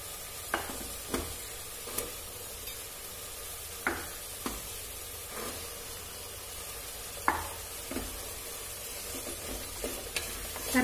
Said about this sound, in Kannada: ನಾನೀಗ ಈರುಳ್ಳಿ ಹಾಕ್ತಾ ಇದೀನಿ ತರಕಾರಿ ಎಲ್ಲ ಮಿಕ್ಸ್ ಮಾಡ್ತಾ ಇದೀನಿ